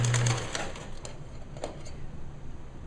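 A sewing machine stitches lace onto the bottom hem of a gown in short, rapid mechanical bursts with brief pauses, close and fairly quiet.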